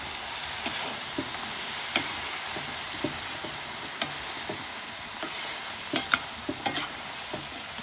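Meat sizzles and fries steadily in a large cauldron while a utensil stirs it, scraping and knocking against the sides at irregular intervals.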